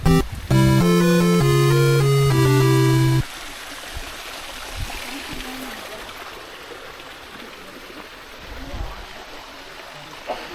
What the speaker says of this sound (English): Top of the waterfall.